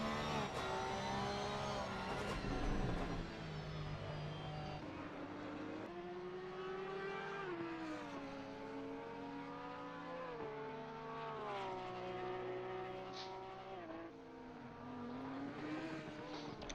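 Porsche race car engine in a sim racing game at Zandvoort, a loud sustained howl rising and falling through gear changes and corners for the whole stretch, with no talk.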